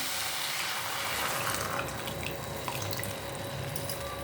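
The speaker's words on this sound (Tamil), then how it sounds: "இந்த தண்ணியை நான் இதில் ஊற்றிடுறேன்" Starchy water drained from cooked parboiled rice pours steadily into a pan, a continuous close splashing wash of water with faint dripping, no voices.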